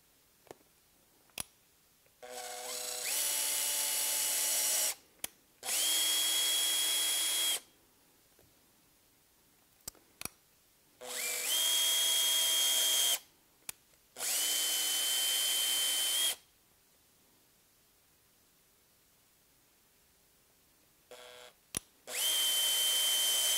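A power drill bores pilot holes for screws in a Pilates studio reformer, running in four long loud whirring bursts separated by pauses with faint clicks, close up and with no speech.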